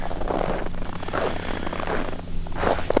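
Crunchy, squeaky footsteps on hard-packed snow, several steps in an uneven rhythm, close by with steady outdoor background.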